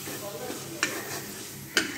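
Onion frying in a pan with salt added, a steady low sizzle running throughout, broken by two sharp scraping clinks of a spatula against the pan.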